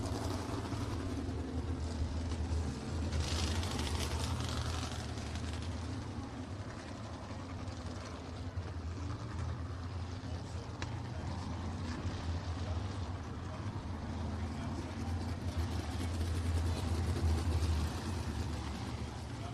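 Sprint cars, Crown Vics and mini stocks roll slowly onto a speedway track ahead of a heat race, with a continuous low engine rumble in the distance and a steady drone throughout.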